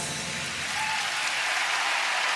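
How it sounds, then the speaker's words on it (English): Arena crowd applauds after a figure skating pairs free skate at the 2016 World Championships, a broad, steady roar of clapping that swells slightly, heard from a distance across a large venue. "Great applause"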